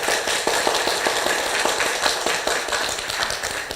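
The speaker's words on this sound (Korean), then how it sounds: "박수 부탁드립니다" A crowd gives a brisk round of applause, with sharp individual claps standing out in a fairly even rhythm at moderate volume and no voices over it.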